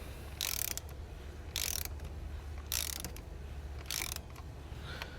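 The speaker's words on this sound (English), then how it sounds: "All right, so I have my torque wrench set to 74 inch-pounds." Torque wrench tightening the coil pack screws on a 2016 Chevrolet Sonic 1.8L engine, set to 74 inch-pounds: four evenly spaced bursts of rapid ratchet clicking, close up, over a steady low hum with no talking.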